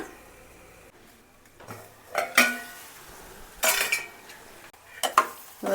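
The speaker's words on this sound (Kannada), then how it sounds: "ಇವಾಗ ಒಂದು ಹತ್ತು ನಿಮಿಷ ಬೇಯಲಿ ಪ್ಲೇಟ್ ಮುಚ್ಚೋಣ" Radish fry being stirred in a pan, then a metal plate set over it as a lid: several sharp clanks and scrapes of utensil and plate against the pan, with a faint sizzle between them and no voices.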